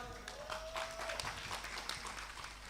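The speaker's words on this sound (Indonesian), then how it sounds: "Tepuk tangan yang sudah siap." Crowd at a political gathering in Metro Lampung gives sustained clapping as a dense, fairly distant patter, with a voice briefly heard over it.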